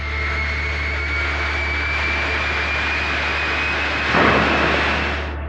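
Concorde supersonic jet airliner roars in a loud, continuous broadband rush with a faint high whine, swelling briefly near the end as it passes overhead.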